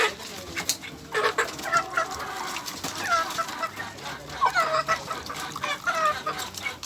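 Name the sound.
pet chickens clucking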